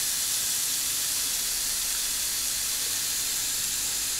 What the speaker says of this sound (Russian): Шипит чудом.